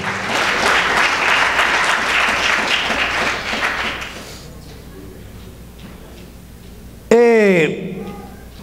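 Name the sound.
congregation applauding during sermon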